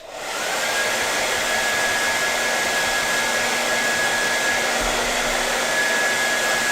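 A hair dryer drying artwork blows continuously at close range, a steady loud whooshing hum with a faint whine, running without interruption and no speech.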